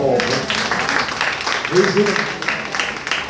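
A church congregation claps together in a sustained, dense patter that carries on beneath a speaking voice.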